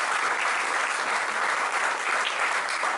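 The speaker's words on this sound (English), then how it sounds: "Give yourselves a big round of applause" A retreat audience breaks into dense, continuous applause, loud and even throughout, a steady wash of many hands clapping with no voices on top.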